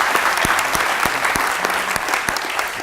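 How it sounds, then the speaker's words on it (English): Audience applause after a thank-you to a military veteran at a panel event, steady dense clapping throughout at moderate loudness with no speech over it. "Give him a round of applause."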